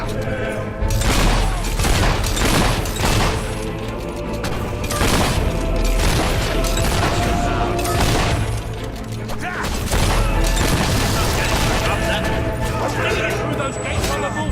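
Battle at the gates in Fable 3, with gunfire, mortar blasts and crashing explosions rumbling loudly and continuously under shouted voices and music.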